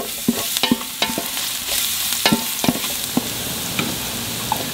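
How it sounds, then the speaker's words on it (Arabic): Garlic fries with onion in a pan, a close, bright sizzle punctuated by frequent clacks and scrapes of a spoon stirring against the metal, with no talk. "هذا الثوم نحطه الان مع البصل"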